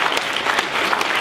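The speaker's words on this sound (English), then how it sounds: "I want to give you a round of applause." Applause from an audience honoring board members standing at a 2019 organizational gathering, steady dense clapping throughout, close and full.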